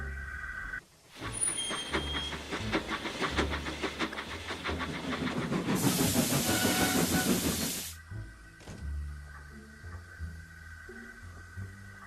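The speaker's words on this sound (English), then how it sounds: "The logging loco crept slowly into the shed." A steam logging locomotive creeps into an engine shed, chuffing in a steady rhythm and then releasing a loud, sustained hiss of steam before settling to a quieter idle with soft background music.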